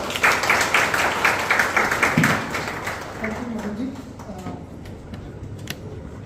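Audience applause at a lecture in the Rajasthan State Archives, Bikaner, welcoming the director to the stage: a dense burst of clapping for about three seconds that thins out, with a voice starting to speak as it fades.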